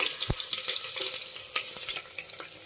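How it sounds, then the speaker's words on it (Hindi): Sliced onions sizzle and crackle in hot oil inside a pressure cooker, a steady bright frying hiss with scattered pops and occasional stirring clicks, close and without talking. "अब हम इसमें स्लाइस की हुई प्याज को डालेंगे"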